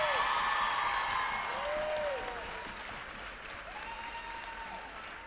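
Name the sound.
applause for the tournament MVP at a basketball game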